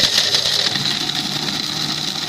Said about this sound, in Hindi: लेकिन अगर वो ना हो तो आप ग्राइंडर से भी इसको ग्राइंड कर सकते हैं सारी चीज़ों को।